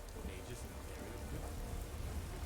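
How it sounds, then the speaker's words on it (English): Steady rain in Skyrim hisses as a soft, even wash of drops with a low rumble beneath, faint and continuous throughout. "Oh, it's raining?"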